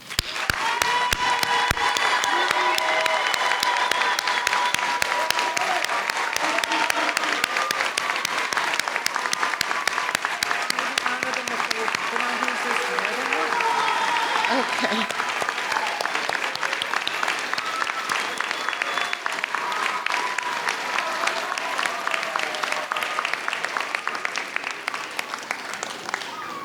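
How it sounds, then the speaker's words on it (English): Sustained applause from a ceremony audience honoring Dean's List and Milestone students, dense steady clapping filling the room for the whole stretch, with a brief spoken word near the start. "join me in giving a resounding applause to all of our Dean's List and Milestone students"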